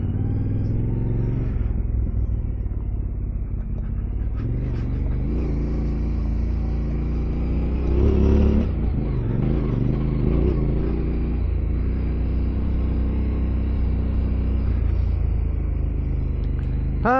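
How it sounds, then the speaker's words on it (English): Constant low engine rumble of a motorbike on the move, with wind buffeting and occasional shifts in pitch as it rides along. "Motorbikes are great."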